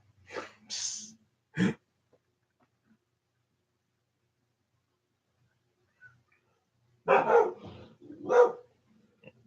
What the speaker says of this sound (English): I'm sure y'all hear the dogs.